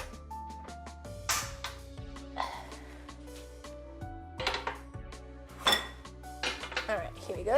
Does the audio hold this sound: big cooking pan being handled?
yes